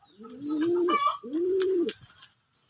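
A dove or pigeon gives two drawn-out, throaty coos, close by and fairly loud, with a faint chirp between them and no speech.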